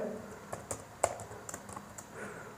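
Someone types "printf" on a computer keyboard, a short run of light, separate key clicks spread over a couple of seconds, close and fairly quiet with no talking.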